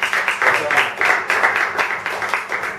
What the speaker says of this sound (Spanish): Un aplauso para el grande.